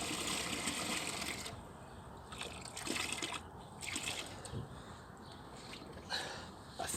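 Water is poured into a dug fence post hole in a back garden fence repair, a fairly faint, continuous splashing trickle lasting several seconds.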